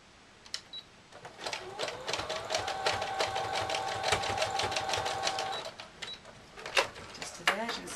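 A domestic sewing machine runs continuously as it stitches fabric for a Christmas Santa Claus cushion, a steady mechanical whir with fast rhythmic needle clatter, close and prominent, starting and stopping with a few brief handling clicks around it.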